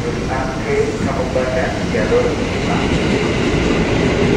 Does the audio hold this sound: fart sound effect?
no